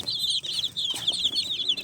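A crowd of chicks, some large and some only three or four days old, peeps in dense, high, overlapping cheeps alongside chickens. Softer low clucks and shuffles sound nearby throughout.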